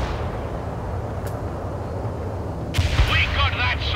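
Incoming fire in the real-time strategy game World in Conflict: a low rumbling barrage of distant artillery under game radio chatter, then a sharper cluster of loud cracks and booms near the end.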